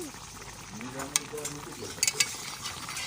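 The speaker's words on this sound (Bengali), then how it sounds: "আর এই যে নিরামিষ রান্না করছি, কুমড়ো আলু পালং শাক দিয়ে" A vegetarian curry of pumpkin, potato and spinach cooks in a pan, giving a short burst of frying sizzle with a few sharp metallic clinks of stirring, with faint voice-like sounds in the background.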